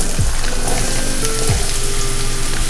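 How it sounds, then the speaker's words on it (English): Diced onion sautéing in olive oil in a pan, a loud, continuous close sizzle with a couple of soft stirring scrapes and no voices. "Now step 2, we're gonna also saute all our vegetables"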